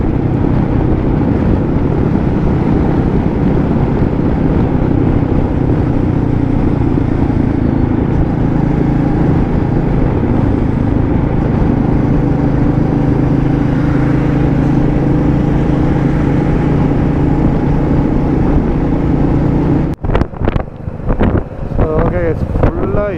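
Continuous low rumble of highway traffic with heavy lorry engines droning, wind buffeting the microphone of a Royal Enfield Meteor 350 rider, and a few clattering knocks near the end.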